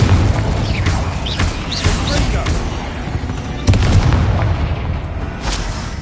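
Confringo blasting spell in Hogwarts Legacy, a run of booming explosive bursts over a continuous rumble, with one sharp louder blast partway through.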